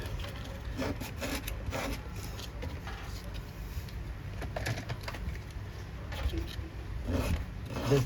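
Steady abrasive grinding on the cutting edge of a small scratch-built model parang machete, a continuous close rasping scrape with rhythmic strokes and no talk.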